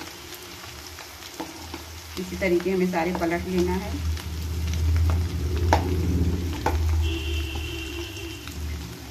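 Potato samosa rolls fry in oil over a medium flame, a steady close sizzle with bubbling that swells while the rolls are turned, and someone talks over it throughout.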